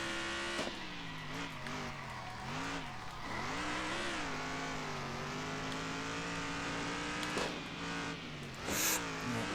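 Racing trucks roar around a circuit in Circuit Superstars, engines revving and shifting as they rise and fall through corners, with occasional tire squeal, continuous and fairly loud.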